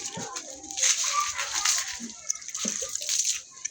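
Water poured and sloshing onto a surface at a house building site in a Uganda neighbourhood, a short close splashy pour with background voices.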